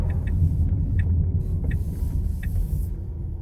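A 2023 Tesla Plaid rolls off a highway exit toward a Supercharger, giving a steady low road rumble and tire noise inside the cabin, with faint periodic ticking clicks above it and no talking.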